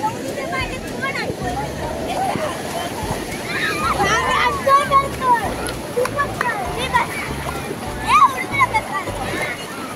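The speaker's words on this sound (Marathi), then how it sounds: "खूप मोठ्या मोठ्या लाटा उसळत आहेत." Big ocean waves crash and wash in steadily along a crowded beach, with children's voices and splashing mixed in nearby.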